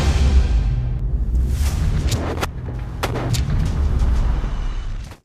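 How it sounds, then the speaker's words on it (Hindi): Several sharp sniper rifle gunshot cracks ring out over a constant low rumble, with a couple of distinct loud reports spaced a second or so apart. "स्नाइपर गोली चलाता है"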